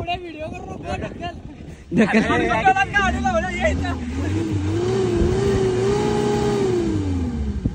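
A car stuck in mud revs its engine in a long, wavering whine that rises and falls. Several people shout and talk over it nearby.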